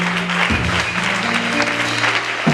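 Congregation applause at a Sunday school closing church service, a dense steady clapping filling the short moment with a low sustained tone beneath.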